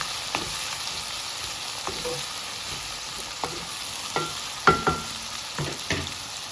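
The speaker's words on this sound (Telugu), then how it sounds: "ఇప్పుడు వెంటనే మనం కడిగి పెట్టుకున్న ఎండు రొయ్యలు కూడా వేసేసుకుందాము వీటిని ఫ్రై చేసుకోవాలండి" Washed dried prawns fry in a pan, a steady moderate sizzle broken by repeated clinks and scrapes of stirring, with no talking.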